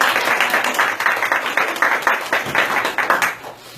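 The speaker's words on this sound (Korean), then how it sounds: "다시 한번 환영의 박수 해주시기 바라겠습니다" A congregation at a Korean Sunday church service gives a welcoming round of applause to visiting newcomers. The clapping is steady and moderately loud, with crisp hand claps thinning out toward the end.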